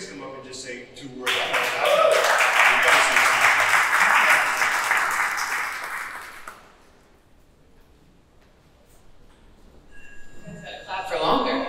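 Audience at an art opening reception breaks into loud, dense applause for a curator, lasting several seconds before fading to quiet room tone, with a voice returning near the end.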